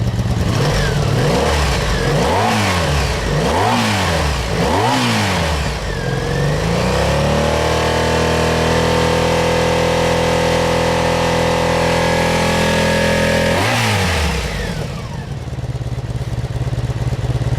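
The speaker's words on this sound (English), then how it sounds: "I always did like these V4 engines." A 1983 Honda V45 Magna V4 motorcycle engine revs repeatedly in rising and falling bursts, then holds a steady high drone before dropping back to a lumpy idle.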